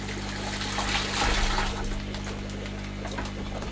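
Water splashes and sloshes as discus fish are netted and dropped into an aquarium tank, a busy broadband wash with a louder burst of splashing midway, close and steady throughout with no talk.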